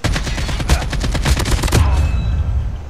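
Rapid automatic gunfire from Call of Duty Mobile cracks in a dense, loud, continuous burst for about two seconds, then cuts off, leaving a fading ringing tail.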